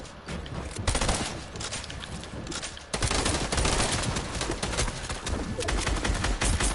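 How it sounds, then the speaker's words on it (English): Sustained rapid gunfire in a Fortnite-style building battle game, loud continuous bursts with a brief lull midway, mixed with chirpy background game sounds. "Keep on firing at him."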